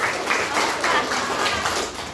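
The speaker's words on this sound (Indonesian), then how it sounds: "berikan tepuk tangan kepada kelompok" Scattered classroom clapping as students applaud a group after its presentation, a run of separate hand claps at close range with a few louder taps, fairly steady and dense throughout.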